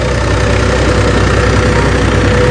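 An HMT tractor engine idles steadily with a low, heavy rumble and faint knocking, close and continuous with no speech.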